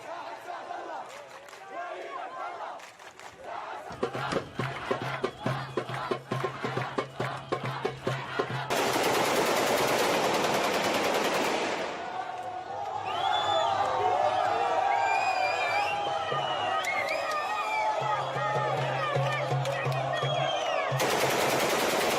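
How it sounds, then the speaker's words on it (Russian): Islamist fighters and local residents in Syria firing automatic rifles into the air, bursts of rapid gunfire with crowd cheering, whooping and shouting, loud and chaotic, with a narrator talking over parts of it. "На этих кадрах рейтов исламисты и местные жители стреляют в воздух из автоматов"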